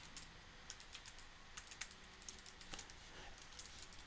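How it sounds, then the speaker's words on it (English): Fingers type a username on a computer keyboard, producing a steady run of soft, fairly quiet key clicks with irregular spacing over a low background hush. "Go ahead and type in the username that was provided to you by the office."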